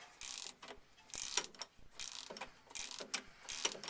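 Hand ratchet tightening a tie rod nut on a GM square-body truck, repeated bursts of rapid clicking in steady back-and-forth strokes, close and fairly quiet, with no talking.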